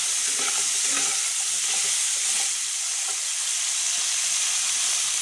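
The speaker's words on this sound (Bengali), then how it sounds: "এখন সুন্দর করে আমি আলুটাও ভাজা করে নেব।" Thinly cut potato strips crackle in a pan of hot oil, a loud continuous hiss and sputter with occasional light clinks of a spatula stirring them, heard up close.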